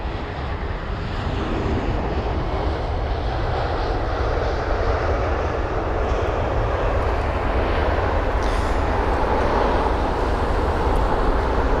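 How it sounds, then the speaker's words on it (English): Airliner landing at London Heathrow at sunset, a steady, loud broadband engine roar that holds at one level throughout with no voices over it. "these planes are getting quieter and quieter each time"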